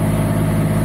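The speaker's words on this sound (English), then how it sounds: "Engine is running now." A Niftylift HR28 boom lift's diesel engine runs at a steady, loud idle, a dense low rumble with even mechanical chatter and no talk.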